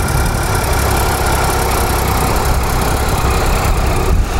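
A Triumph Explorer motorcycle engine idles steadily and loudly close by after being cranked, with a constant rumbling drone throughout.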